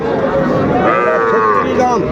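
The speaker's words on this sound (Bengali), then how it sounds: "ষাঁড় বাচ্চা" A young bull calf at Ambari cattle market in Dinajpur gives a loud, close, drawn-out moo lasting nearly the whole two seconds, with faint market chatter in the background.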